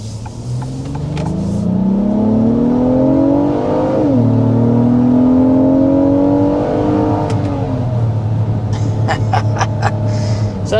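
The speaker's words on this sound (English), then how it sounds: "So that was the sport mode there to show you what she's got. Yeah, really nice, and I love the sound." A 2026 Acura MDX Advance accelerates hard in sport mode, its engine note climbing steadily through a gear change near four seconds and rising again before easing off, loud and close throughout with no talk.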